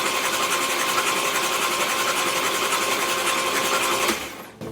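The fuel pump on a 1941 Chrysler flathead coupe runs with a fast, even mechanical buzz, steady and close, then stops abruptly near the end.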